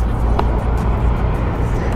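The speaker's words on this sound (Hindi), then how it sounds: "अभी आपको एग्जॉस्ट की भी साउंड चेक कराता हूँ भाई कैसी है" A TVS Apache RR310 motorcycle fitted with a new exhaust idles nearby with a loud, steady, low rumble that holds throughout without revving.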